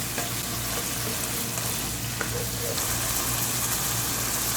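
Mutton liver fries on a tawa while being stirred, producing a dense, constant sizzle with a low steady hum beneath and occasional scraping clicks, close by, with no voices.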